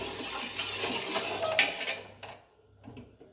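A spoon scraping and clinking against a pot while a wheat flour mixture is stirred, a run of metallic stirring sounds with one sharp clink, fading to near silence at the end.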